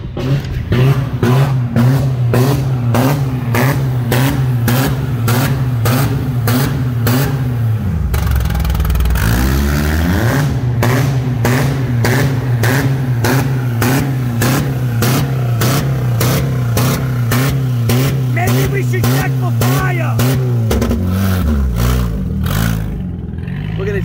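Car engine revving hard while driving on a tough motor, a loud steady mid-pitched roar with rhythmic pulsing and rising and falling revs throughout, with a voice speaking over it.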